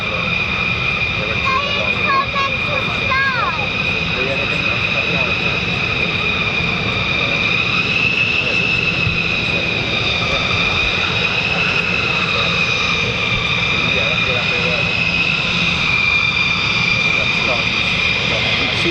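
A pair of F-15E Strike Eagle fighter jets thunder through takeoff at RAF Lakenheath, a sustained loud engine roar with a piercing high whine that holds steady for the full length, with someone talking over it.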